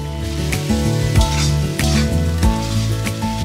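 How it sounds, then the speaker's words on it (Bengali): Onion and green chilli paste fries in refined oil in a wok, with a loud, steady sizzle broken by scraping stirs and clinks, close up and with no talk. "কড়াতে আমি রিফাইন অয়েল অ্যাড করেছি আর তারপরে পেঁয়াজ আর কাঁচা লঙ্কার এই পেস্টটা অ্যাড করে ফ্রাই করে নেব"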